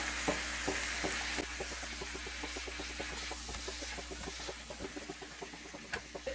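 Large chicken pieces sizzle steadily in hot oil in a kadai, a dense crackling fry with scattered pops and occasional stirring clinks, close and continuous throughout with no talk.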